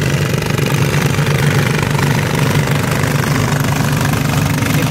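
A ZT155 engine in a large top-spec NT16 motorcycle frame runs steadily on a test ride in second gear, giving a loud continuous low drone with a dense throbbing texture throughout and no talk.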